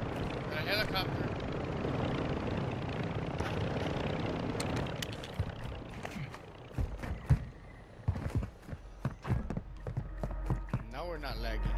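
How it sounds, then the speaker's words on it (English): A helicopter in Call of Duty: Modern Warfare II thumps and whirs in a dense rumble, mixed with gunfire and other battle noise. The racket thins out into scattered sharp hits and clatter. "A helicopter."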